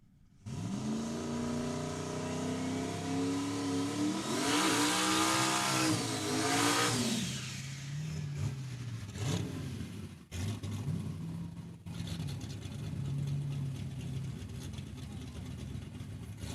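A 1979 Camaro launches on a solo drag racing run at Saskatchewan International Raceway, its engine roaring loudly through rising gear changes before fading off down the strip, with an announcer talking over it.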